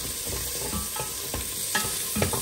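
Food sizzles in oil in a pan while being stirred, with a steady crackling hiss and irregular scraping stir strokes, close and moderately quiet, no talk.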